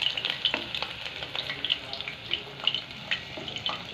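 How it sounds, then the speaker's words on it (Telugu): Chicken fritters frying in hot oil until reddish, a dense crackling sizzle with sharp popping spatters throughout, close and steady, without talking. "ఈ విధంగా వేపుకోవాలి ఎర్రగా."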